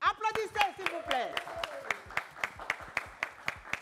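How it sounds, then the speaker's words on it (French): Audience applause on a French broadcast set, a scattering of sharp separate claps in an uneven rhythm, fairly faint and near, mixed with a voice at the start. "Applaudissez, s'il vous plaît."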